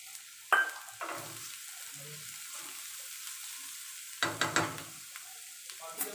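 Small cut pieces of dry red chili frying in oil on a tawa, with a soft steady sizzle, a few louder crackling bursts and stirring scrapes up close; no talking.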